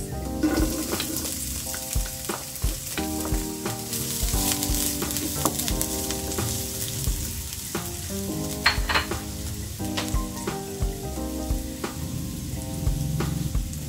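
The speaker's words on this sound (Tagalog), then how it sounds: "isunod natin yung sibuyas" Onions fry for egg curry, sizzling steadily and up close in a hot pan. Occasional stirring scrapes and clinks sit over the constant crackle.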